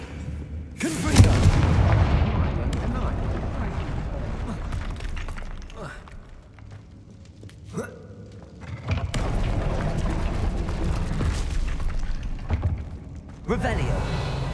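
Confringo blasting spell explosions from the Hogwarts Legacy video game, a series of loud booming blasts with crackling debris, one big burst early then repeated heavy impacts, with spell voices cast between them.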